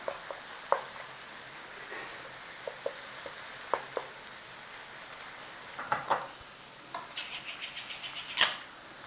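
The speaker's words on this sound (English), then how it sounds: "Now we are making a sauce, a little bit of flour, not much at all. Cook out the flour." Flour cooking in a pan as the start of a sauce, a soft low sizzle broken by faint scraping and stirring clicks, quiet and close.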